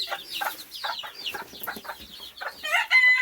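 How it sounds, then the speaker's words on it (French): Barbu d'Anvers hen and her chicks, with repeated bright clucks and high chick peeps close by, a busy irregular chorus of chicken calls without talk. "Donc on a Barbu d'Anvers avec tous les petits poussins."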